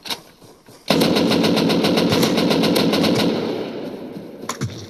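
Rapid burst of gunfire in the survival game Rust, a dense run of evenly spaced loud shots lasting about two seconds, then a couple of isolated reports near the end, with no talking.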